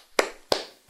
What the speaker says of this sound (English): One man clap